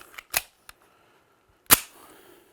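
Suppressed .45 ACP gunfire indoors: two sharp, fairly loud shots about a second and a half apart, with small clicks before and a short room echo after the second.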